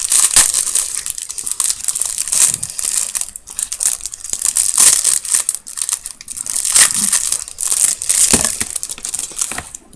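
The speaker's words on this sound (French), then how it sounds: "Alors, je vais ouvrir le sachet." A plastic sachet from a Disney diamond painting kit is torn open and handled: continuous close crinkling and crackling plastic with bursts of sharp rustle, loud and busy, and no talking.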